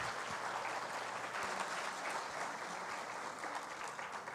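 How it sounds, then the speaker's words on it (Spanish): Warm, sustained applause from a conference audience at a law event on Mexican jurisprudence, steady and fairly faint throughout, welcoming a speaker. "un fuerte aplauso para darle una calurosa bienvenida"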